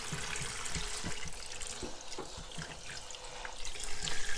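Tap water runs steadily into a sink with a soft, hissing splash, broken by light clatters and drips.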